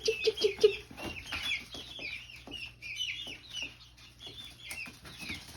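A flock of chickens clucks and squawks in the morning on a small farm, a quick run of close clucks at the start followed by continuous overlapping calls and some wing flaps.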